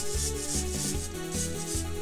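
A wind-up toy action figure with a drill runs continuously, making a loud, rough mechanical grinding and rubbing whir with a rhythmic pulsing, and no talking.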